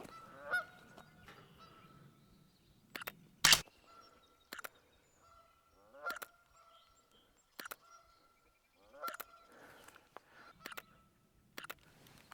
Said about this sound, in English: there's a goose sitting up here on this tower